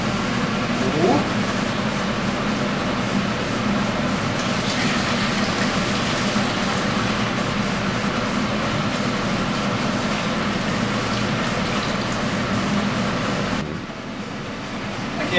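Homebrew is poured into a container in a continuous, loud rushing stream that holds steady for most of the stretch and then drops off abruptly near the end.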